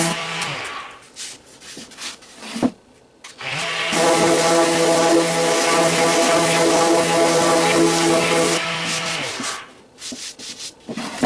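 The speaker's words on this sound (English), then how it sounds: "This is just a light sanding." Light sanding on a wooden model tool box, a steady dense rasping that runs for several seconds after brief scattered scrapes, loud and close, then tapering back to sparse rubbing.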